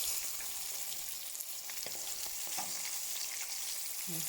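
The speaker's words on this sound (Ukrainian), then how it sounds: "Приходиться мені смажити рибку." Fish frying in a pan, a faint but steady sizzle with light crackles and occasional stirring clinks, with no voices.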